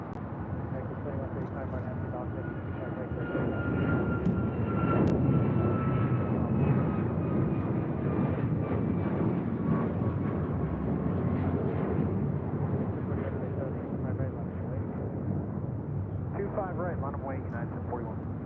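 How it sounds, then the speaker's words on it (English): Alaska Airlines Boeing 737 MAX 9 jet passing at LAX, a broad, steady engine roar that swells and holds for most of the stretch, with a faint whining tone gliding downward and voices talking over it. "That was Alaska Airlines Flight 1412 heading to Liberia. A 737 MAX 9."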